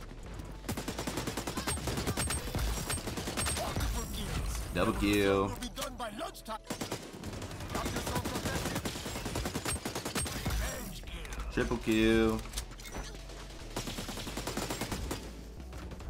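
Bursts of AK rifle fire in a multiplayer shooter game, with rapid cracking shots running through most of the stretch under busy game sound and talking voices, plus announcer callouts.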